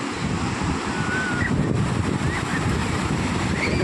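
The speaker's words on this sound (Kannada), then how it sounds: "ಎಷ್ಟು ದಪ್ಪ ಅಲೆ ಬರ್ತಾ ಇದೆ ನೋಡಿ" Big ocean waves break and surge at Panambur Beach in Mangalore, a loud continuous roar of surf mixed with heavy wind buffeting the microphone throughout.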